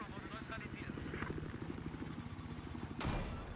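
A helicopter in the multiplayer shooter Battlefield 4 gives a steady rotor chop and whine under someone talking, with a sharp blast near the end.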